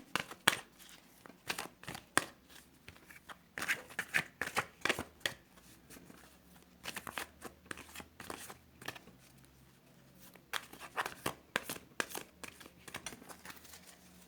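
Tarot cards being shuffled and picked by hand, heard as bursts of riffling, flicking card shuffles close by with short gaps between, quiet and without talk.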